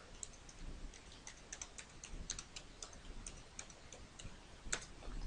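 Someone types a website address on a computer keyboard, producing soft, quick irregular key clicks at close range over a faint background hiss, with no talking.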